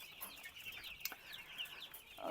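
Master Grey chickens cluck softly in a group, with some scattered higher calls over faint background noise.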